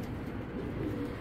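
A racing pigeon coos softly and close by in a brief, low, throaty burble.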